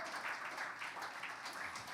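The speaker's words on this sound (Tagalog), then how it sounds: "Can we give the Lord a clap offering of praise?" Church congregation applauding during a service, a dense, steady patter of many hands clapping throughout, fairly close and moderately loud.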